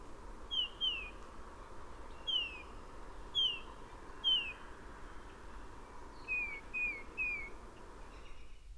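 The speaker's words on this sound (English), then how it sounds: "Here is that same bird giving a single phrase, a faster paired phrase, slower three phrases, then three rapid notes at a lower frequency" A backyard songbird in March sings short whistled phrases, some single, some paired and some in threes, then three rapid lower notes, fairly faint over a steady background hiss.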